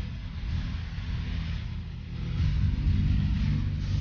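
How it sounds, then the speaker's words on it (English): Superbike exhausts roar during a race at Brands Hatch, a continuous engine drone that swells louder partway through, heard from a distance without speech. "the noise from our exhaust"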